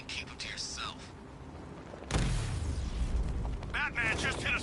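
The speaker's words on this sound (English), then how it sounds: "Batman just hit a Serpent drone." A Serpent drone being struck by Batman in a Batman video game, a sudden loud booming impact followed by sustained rumbling crash noise, with talking before and after.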